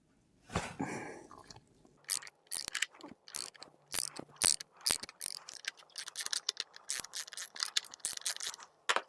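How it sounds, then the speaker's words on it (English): A ratchet wrench with a 24mm socket loosening the top cap of a Rockshox Reba suspension fork during a bike service, a close burst of rapid clicking after a thud, with irregular ticks, clunks and handling noises. "Then I use my ratchet wrench and my 24mm top."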